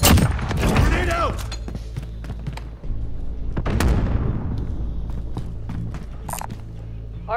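A thrown grenade goes off in a Call of Duty match with a loud boom near the start, followed by a second heavy blast and scattered gunfire, while a game voice speaks over it.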